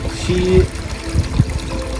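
Water trickling and splashing softly in a backyard water feature: a faint, steady liquid patter with small gurgles over low outdoor background noise.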